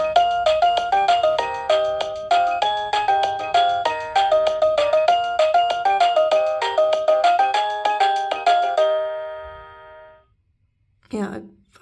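A doorbell plays a long, phone-ringtone-like chiming melody of rapid repeated electronic tones, loud and close, stopping abruptly before a brief clatter near the end.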